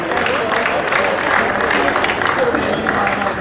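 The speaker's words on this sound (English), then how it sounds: "please give it up a warm, warm round of applause also for a great effort from Graham Cronin" Applause from the audience at a Master Games 2015 novice bout fills the hall, a dense, even wash of clapping at steady loudness, with talk mixed faintly beneath.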